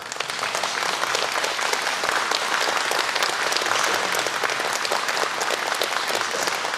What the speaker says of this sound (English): About a round of applause for the Colonel to start with.